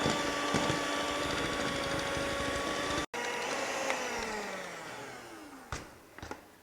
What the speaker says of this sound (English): Just vigorously beat only 1 minute, not for a long time.